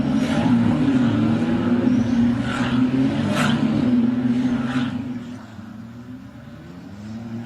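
Ferrari Challenge race cars idle on the grid at Miami International Autodrome before the start, a dense steady engine drone with some rising revs, continuous and fairly loud, easing slightly toward the end.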